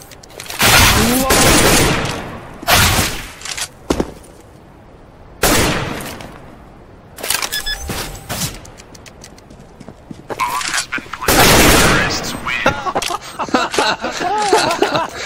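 Counter-Strike: Global Offensive gunfire crackles in loud rapid bursts and sustained automatic volleys, separated by short pauses, with a voice speaking over parts of the action.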